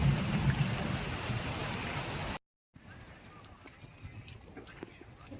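Steady, dense rain pours outdoors at a grandparents' house during a thunderstorm with lightning and a power cut; the downpour is loud for about two seconds, then cuts out briefly and returns as a much quieter, softer patter.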